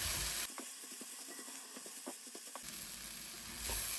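Banana flower (vaazhaipoo) stir-fried in a pan for a Sri Lankan-style dry curry, steady sizzling with a run of quick scraping stirs, close and moderately loud, with no talking.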